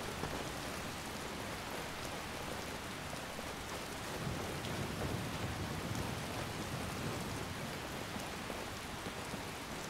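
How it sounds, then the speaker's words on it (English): Steady rain falls in a modded Skyrim game as a dense, even hiss of drops that holds unbroken throughout, with no voices. "Like I said, hopefully this rain subsides pretty soon."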